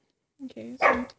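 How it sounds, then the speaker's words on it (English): A pet dog at home gives a few short, close barks in quick succession, with a person speaking briefly alongside. "that was my dog. He spooked me."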